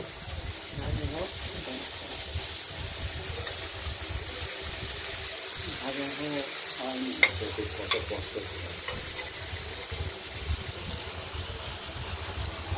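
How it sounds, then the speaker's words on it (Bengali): Pointed gourds fry in a pan, a lively sizzle broken by scraping and stirring strokes, with a voice faintly present in the background. "পটলগুলো একটু ভালো করেই ভেজে নেব।"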